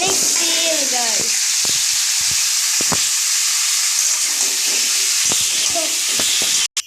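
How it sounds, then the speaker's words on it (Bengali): Sweet pumpkin frying in a pan with plenty of oil in a home kitchen: a loud, steady close sizzle with occasional stirring knocks and scrapes, ending in a sharp clatter. "এই যে গাইস দেখেন আমার মা এখন মিষ্টি কুমড়োটা ভেজে নেবে। অনেক তেল গাইস।"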